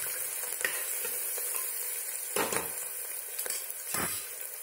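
Sliced onions and peanuts sizzle in a pan under a steady hiss, with several distinct scraping bursts as a spatula stirs and turns them; close and fairly quiet, with no talk.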